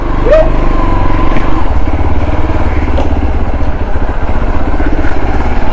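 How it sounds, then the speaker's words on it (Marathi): A motorcycle engine idles steadily right after a cold start, a loud continuous low rumble with a fast pulsing beat that holds evenly throughout, with faint outdoor background and no speech. "कोल्ड स्टार्ट पण झालेली आपली बाईक."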